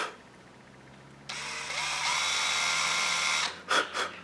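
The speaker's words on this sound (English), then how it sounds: "I've got this really small little drill bit. I'm just going to barely start it." A small electric drill with a very small bit whirs up from quiet and runs steadily for a couple of seconds, barely starting a hole in a pen blank ornament for a screw eye, then stops, followed by a few brief scraping sounds.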